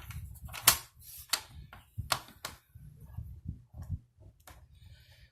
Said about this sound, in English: I'm just going to cut it here.